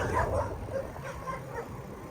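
Dogs at an outdoor dog park bark and yip faintly at a distance, with a few scattered calls over a low background hum.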